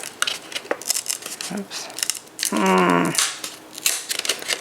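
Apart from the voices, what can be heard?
12-in-1 dial paper trimmer cutting paper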